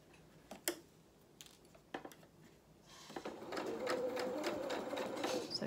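A domestic sewing machine stitches ribbon over zigzag stitching on a small toy jacket's fur hem: a few separate clicks and taps at first, then a steady, close, continuous mechanical whirring run from the midpoint onward.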